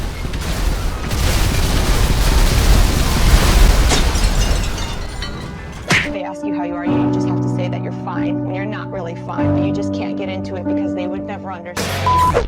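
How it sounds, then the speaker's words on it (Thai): A rocket launcher mounted on the Green Goblin's glider in modded GTA V fires and sets off a long, loud rumbling explosion. The blast gives way to a sharp crack and then ringing musical tones. "ส่วนอาวุธชิ้นที่ 2 ก็จะเป็นอกเก็ตลังเชอร์หรือจรวดที่ติดอยู่กับ ตัวไกลเดอร์นะครับทุกคนมันจะได้อารมณ์แบบ RPG"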